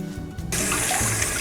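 Tap water suddenly starts gushing into a kitchen sink for hand washing while cooking chicken, a close, steady, loud rush.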